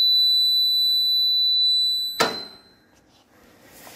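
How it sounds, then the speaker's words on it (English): A side stand warning buzzer on a TVS Apache RTR 180 motorcycle gives a steady high-pitched electronic tone for about two seconds, then cuts off with a sharp click and a short clatter. "As you can see, the buzzer is on."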